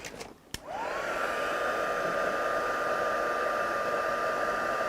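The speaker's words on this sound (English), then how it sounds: "then we'll heat emboss this" A heat gun used for heat embossing a silver stamped sentiment. A click, then a loud steady blowing whoosh with a rising whine as the motor spins up, continuing evenly to the end.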